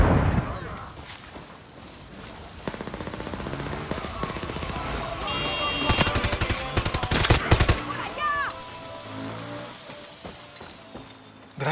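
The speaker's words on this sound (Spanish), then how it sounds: "¡Disparos!" Gunfire in the Far Cry 6 video game: rapid automatic bursts and scattered shots, loudest in the middle, over a busy game soundscape with voices talking.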